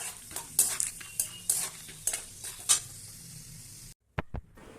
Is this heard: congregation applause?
no